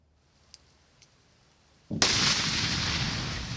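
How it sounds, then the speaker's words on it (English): Landmines detonated in a controlled destruction: after a few faint pops, a sudden loud blast erupts and rolls on as a sustained, thunderous roar and rumble that fills the rest of the moment. "They are landmines being destroyed. You can see how devastating they can be just from that explosion."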